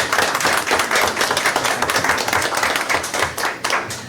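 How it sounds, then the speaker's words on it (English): Attendees at a Fanwood borough council meeting giving a round of applause, a dense, even patter of many hands clapping close by for several seconds with no talk over it. "So we'll give everybody a nice round of applause"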